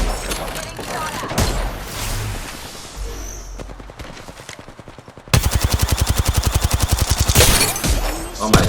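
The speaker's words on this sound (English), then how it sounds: "Getting shot at." Gunfire in the battle royale shooter Apex Legends, with scattered shots and then dense, rapid automatic bursts that hammer loudly in the second half, under game sounds and voice chatter.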